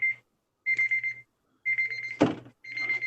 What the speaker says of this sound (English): Do you have an alarm or something?